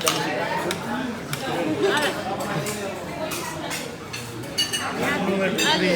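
Spoons clinking against dishes at a lively birthday party, with short bright clinks scattered through steady crowd chatter close by.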